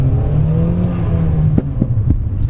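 Ford Fiesta ST engine pulling under acceleration from inside the car, a steady loud drone with a few brief knocks or bumps toward the end.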